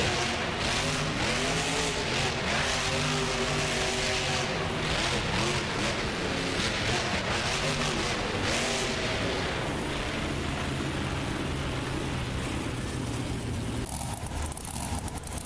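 Simulated monster truck engines rev and roar in BeamNG Drive during a Monster Jam-style competition on a custom Anaheim course, a loud continuous drone with rising and falling revs and tire noise, no talking.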